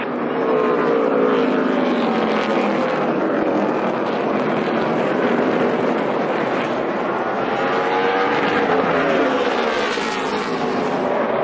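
NASCAR stock cars racing at Martinsville Speedway in the closing laps, a loud, continuous engine roar with pitch rising and falling as cars pass, filling the whole stretch.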